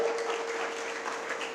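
An audience applauds at a lecture, a fairly quiet, steady patter of many hands that lasts the whole stretch, with a faint constant tone running underneath.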